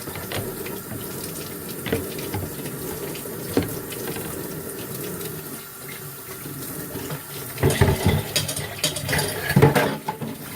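Tap water runs steadily into a kitchen sink during dishwashing, with clattering and splashing bursts from dishes being handled near a drying rack.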